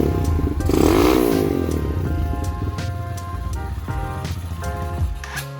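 A Lifan KP Mini 150 motorcycle engine revs up and holds a loud, rough idle with popping exhaust crackle, close by and alone, with no talk.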